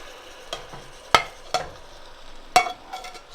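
Ground meat for beer chili scraped and stirred back into a hot pot, a few sharp scrapes and clatters over a soft, faint sizzle, no talk.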